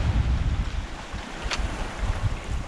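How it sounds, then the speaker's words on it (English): Wind and waves at sea on a boat crossing the Bay of Biscay as the sun goes down, a steady roaring rush of wind noise and water washing against the hull, with a brief splash midway. "Sun's going down and the wind picked up, isn't it?"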